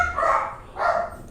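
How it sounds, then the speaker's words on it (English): Dogs barking inside a house: two close barks about half a second apart, each one full and slightly drawn out over a soft room hum. "Excuse my dogs, I'm sorry, working from the house today."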